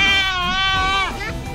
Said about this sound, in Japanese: かわいいねこのヤギ。